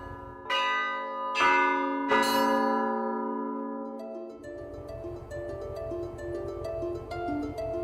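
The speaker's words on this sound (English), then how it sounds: "I play the bells at the Holy Ascension Cathedral here in Unalasca" Church bells ring at Holy Ascension Cathedral in Unalaska, Alaska: three loud, resonant strikes in steady succession, their tones ringing on and overlapping before lighter, quicker bell chimes layer in, with no voices.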